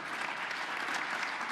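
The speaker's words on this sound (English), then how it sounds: "so we'll clap at each category" Audience applause at a quarterly membership lunch, a brief burst of steady clapping from a crowd in a room, fairly close and unbroken.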